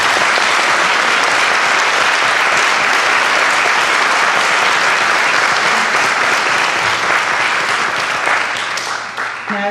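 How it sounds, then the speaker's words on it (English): A crowd at a Board of Education meeting applauds a high school Unsung Hero Award winner, with loud, sustained clapping that keeps an even level before thinning slightly at the end. "Give her a round of applause"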